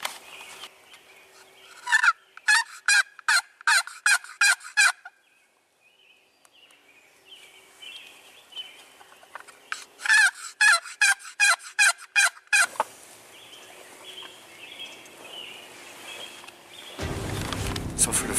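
A wild turkey's gobbling answers a yelp call during a spring hunt, with two bursts of rapid, sharply repeated notes separated by quiet gaps and a low rumble at the end.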